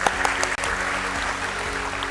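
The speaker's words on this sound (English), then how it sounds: "Please let's have a huge round of applause for him" A crowd at a stock exchange listing ceremony applauds steadily and fairly loudly for a company chairman, the clapping continuous throughout with a steady hum underneath and no speech.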